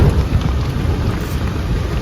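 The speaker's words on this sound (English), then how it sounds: "just as we got there, it started raining" Steady rain falls during a thunderstorm at a bus stop in Chikmagalur, with a dense, continuous hiss and low rumbling holding at a constant loud level throughout, and no voices.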